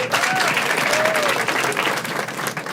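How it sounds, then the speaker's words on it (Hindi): Steady, dense applause from a stand-up comedy audience during a ladies-special crowd-work show fills the whole stretch, loud and close, with a few faint voices rising above the clapping. "एक बार नंदिनी के लिए ताली बजा सब लोग"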